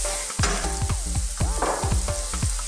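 Onion sizzles loudly as it hits hot oil already holding cumin and turmeric powder, cooked for a pork, pineapple and coconut milk curry, with steady crackling and a few sharp stir scrapes, no voices.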